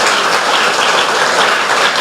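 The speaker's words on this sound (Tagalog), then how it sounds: "Malakas na palakpak para sa Diyos" Loud, sustained applause from a church congregation, a thick, even wash of many clapping hands with no letup and no voices standing out.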